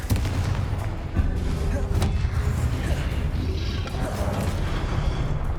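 Fiery Confringo spell blasts in Hogwarts Legacy: dense, booming explosive impacts and rumbling combat noise fill the scene continuously, loud and close, with a few sharper cracks standing out.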